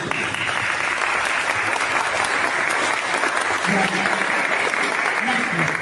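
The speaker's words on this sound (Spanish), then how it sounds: "le damos un aplauso que la recibimos todos" A crowd at a church Bible and liturgy training meeting applauds steadily and loudly throughout, with dense clapping and a few voices mixed in.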